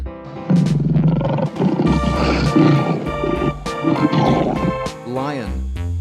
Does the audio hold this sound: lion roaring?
yes